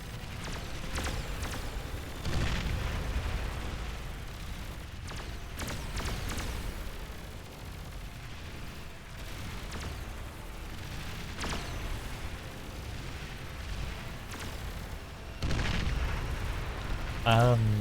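Booming bomb blasts from the strategy game Beyond All Reason, where a nuclear bomber's payload hits a Razorback unit. Repeated heavy impacts land under continuous battle noise, with several sharp bursts and a loud thump near the end.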